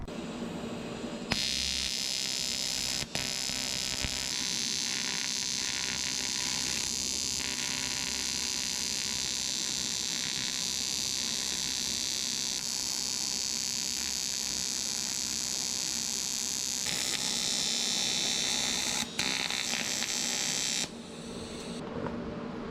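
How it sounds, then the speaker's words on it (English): Aluminum is being welded onto a 1972 Jeep CJ5 shifter cover. A continuous harsh electric buzz runs close and loud for about twenty seconds, broken by a few brief interruptions. "I'm gonna start welding it up"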